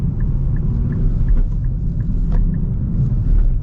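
Engine of a 2025 Nissan Z with a manual gearbox, heard from inside the cabin as a steady, loud, low rumble that holds even for a few seconds, with no talk.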